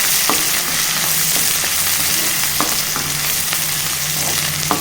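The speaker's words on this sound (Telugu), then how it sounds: "ఇప్పుడు ఉల్లిపాయ ముక్కలు ఫ్రై చేసుకోవాలి." Onion pieces fry in a pan for an egg pulusu curry, giving a steady close sizzle with a few sharp pops and spatula clicks, with no talking.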